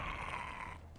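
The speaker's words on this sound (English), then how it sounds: "And a dog." A dog growls in the survival video game Survival Fountain of Youth, a low, steady rumble lasting about a second that fades out at the end, moderately close and alone without any talk.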